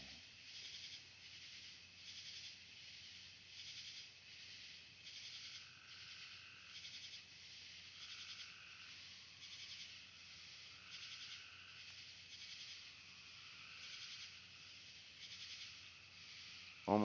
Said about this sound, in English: Seems like crickets are having a say.